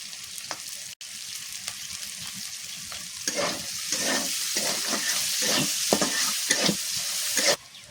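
Onions and green chillies fry in oil left over from frying chicken for a village-style curry, a steady sizzle with repeated stirring scrapes that grow louder and busier partway through, no voices.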